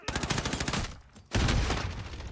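Gunfire in Modern Warfare: a dense, loud rattle of rapid automatic shots, a brief pause, then another heavy sustained burst close by.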